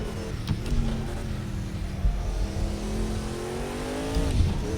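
Race car engine in Project Cars 2 holding a steady, loud drone close by, its pitch climbing gradually across several gear pulls, with faint tire noise underneath.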